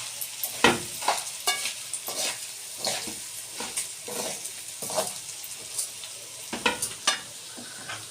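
Thin vermicelli pasta stir-fried in a pan for Egyptian koshari, a constant crackling sizzle broken by repeated sharp scrapes and clacks of a utensil stirring, irregular in rhythm, close and fairly loud.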